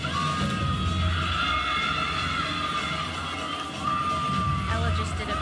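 Home crowd at an NCAA women's gymnastics regional final in Tuscaloosa roars and cheers for Alabama during a floor routine, a sustained, dense wash of shouting and whooping heard from within the arena.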